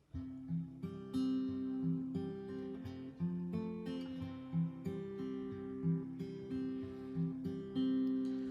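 Acoustic guitar chords opening the chorus of a song, strummed in a steady rhythm, a quiet, close-sounding progression with no voices.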